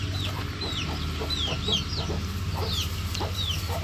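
Chickens cluck and chirp repeatedly in a poultry shed, a mix of short high calls and lower clucks from several birds nearby over a constant low hum.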